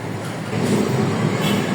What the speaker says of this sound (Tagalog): May tren na.